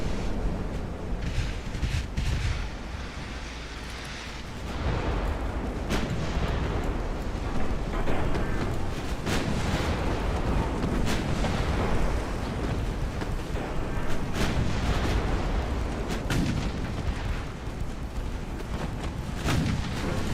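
Naval battle in Ultimate Admiral: Dreadnoughts, China 1890: continuous rumbling booms of heavy ship gunfire, dense and loud throughout, with repeated sharp blasts over a low roar and no talk.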